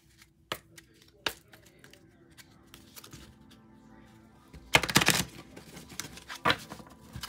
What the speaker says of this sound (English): I can't shuffle that good because of my wrist hurting.